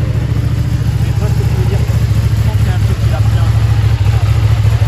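A motorcycle engine idles with a deep, steady rumble, close and loud, with slight throttle blips throughout, at a cars-and-coffee meet in Paris.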